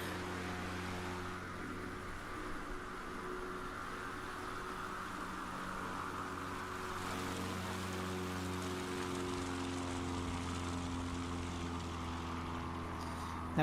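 Propeller aircraft engine drone during a takeoff in Microsoft Flight Simulator, a steady tonal hum with several harmonic lines, holding level and growing slightly stronger midway, with no speech over it.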